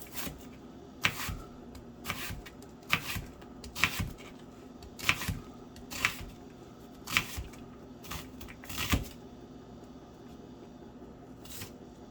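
A knife dices ingredients for a five-cheese queso dip on a cutting board, giving a dozen sharp chopping taps at an irregular pace, close-up over faint background hum.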